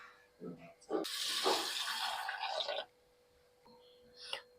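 Water splashes and swirls in a vessel for a couple of seconds as lentils and rice are rinsed, with a few soft knocks before and after.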